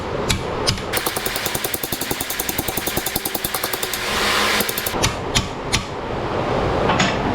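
A cheap hammer pounds a steel bed panel of a 1962 Chevy C10 pickup into a bend, a rapid, even series of ringing metallic blows close by, easing into a brief scraping lull, then a few slower heavy strikes.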